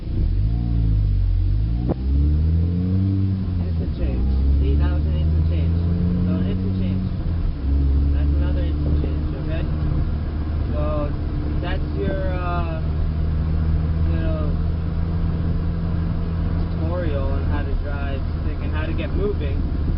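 A manual-transmission car's engine revs up and drops as gears change, rising and falling pitch sweeps followed by a steadier drone, with voices talking over the engine sound throughout.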